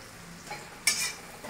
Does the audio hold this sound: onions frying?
yes